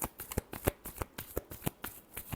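Tarot cards being shuffled by hand in quick rhythmic riffles, a steady series of close, crisp papery snaps with no talking.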